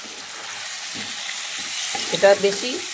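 Pre-fried chicken, marinated with lemon juice, salt and turmeric, goes into a sizzling spice masala whose oil has separated, crackling steadily up close; a few louder stirring scrapes come near the end.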